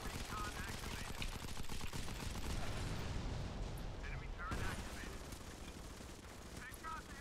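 Rapid sustained LMG fire in the shooter game MC5 on PC, a dense rattling stream of quiet gunshots mixed with in-game effects, with a player talking over it.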